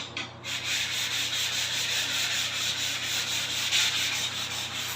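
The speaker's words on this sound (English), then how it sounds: "you can even sand it if you want to" Hardened sealant on a cheap Philippine house build is sanded by hand, giving a continuous close scratchy rubbing with a steady back-and-forth texture and no talk.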